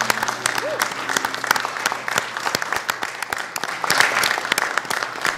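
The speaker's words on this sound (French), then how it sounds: "Merci d'applaudir." Sustained audience applause at a fashion show runway presentation, a steady dense wash of clapping with scattered louder claps, mixed with faint background voices.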